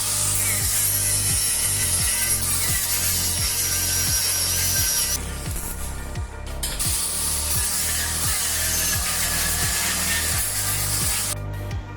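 Power tool grinding and cleaning metal for a handmade coat hanger, a loud continuous whine with rhythmic pulses and a brief drop in the middle.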